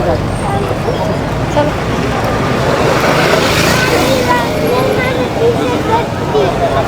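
A car passes along a street in Naples amid a continuous wash of traffic noise, with people talking over it.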